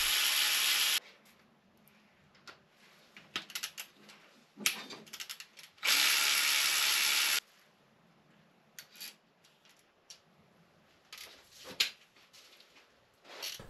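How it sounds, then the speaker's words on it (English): A ratchet or small power driver loosens the small cylinder head bolts on a BMW R1150GS motorcycle: two sustained loud whirring bursts, plus scattered short clicks, taps and rubbing between them, close and without talk. "I'm going to start by removing the small bolts first"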